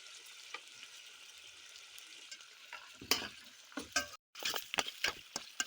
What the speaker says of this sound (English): Add 6 tablespoons of ginger garlic paste and saute it.